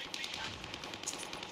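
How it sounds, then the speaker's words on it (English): Rapid automatic gunfire rattles steadily in a Call of Duty Warzone match on Rebirth Island, a dense stream of game shots heard at moderate level without pause. "I'm taking fire."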